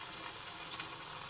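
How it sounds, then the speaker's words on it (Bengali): Vegetable kachori sliding into hot oil, a faint, steady fizzing sizzle with small pops, heard briefly and alone. "আমি এবার এটাকে ভাজবো। তেল বসিয়ে দিয়েছি, গরম হয়ে গেছে তেল, আস্তে আস্তে করে আমি ছেড়ে দিচ্ছি"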